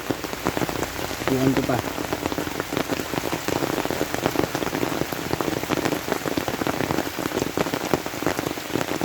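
Steady rain falls outdoors in a rural province, a dense, continuous patter of drops on surfaces that lasts throughout, with faint voices briefly under it.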